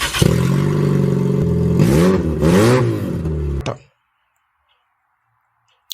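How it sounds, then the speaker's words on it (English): A loud, raspy car engine with no catalytic converter revs hard twice, then cuts off abruptly, leaving silence. "This is what the car sounds like with no catalytic converter."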